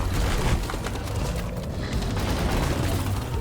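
Cryo Cannon with the sticky ice overclock firing in Deep Rock Galactic, a dense continuous hissing, roaring spray held steadily at close range without a break.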